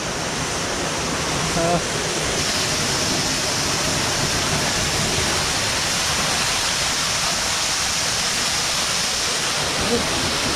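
Continuous rushing water roars steadily from an icy mountain stream and waterfall in Jari near Kasol, Himachal Pradesh, broad and close, with a brief faint voice early on.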